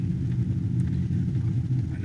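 A 2019 Ram HD Laramie Longhorn pickup truck cruises along, its cabin filled with a steady low road and engine rumble, even and continuous with no speech.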